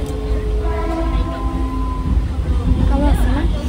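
Train interior rumble with a steady low hum and faint tonal whines, a station departure amid a crowd's background chatter, continuous and fairly loud throughout.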